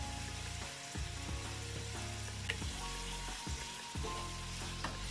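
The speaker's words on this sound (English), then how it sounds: "We're just going to saute, let this saute for about 5 minutes." Vegetables and herb stems sauté in a pot for Bahamian peas and rice, a soft steady sizzle with faint intermittent stirring and scraping, close and fairly quiet, with no talking.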